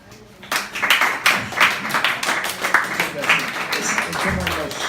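An audience at a poetry reading breaks into applause, a dense run of clapping that starts abruptly after a brief quiet and carries on evenly, with some talk mixed in underneath.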